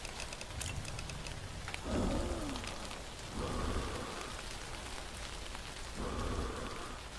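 Steady rain falls throughout, a continuous hiss with a few louder swells that may be distant thunder rumbling underneath.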